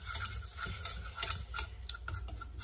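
A whisk clicks and scrapes rapidly against the side of a saucepan in uneven bursts while mixing flour into béchamel, close by, with no talking.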